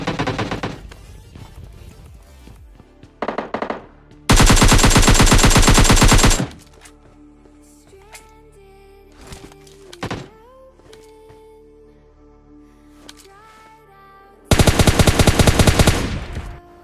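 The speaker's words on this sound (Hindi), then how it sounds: "अब तुम बस फाइट के गन साउंड सुनना" Gunfire in PUBG Mobile Lite during a solo-versus-squad fight: loud sustained bursts of automatic fire, with a short burst near the start, a long one after it and another at the end, separated by quieter game sounds.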